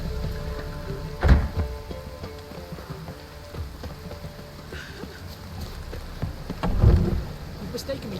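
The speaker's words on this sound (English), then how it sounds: "Time to go. It's raining again." Steady rain in the video game Witcher 3 patters throughout with a low rumble, and two heavier thumping bursts stand out; a faint voice is briefly heard in the background.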